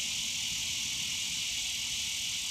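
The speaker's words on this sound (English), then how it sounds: "the summer loudness of the insects" Loud, steady summer insect chorus from trees in the Hamptons countryside, a continuous high, shrill buzzing drone with no break, alone and fairly close.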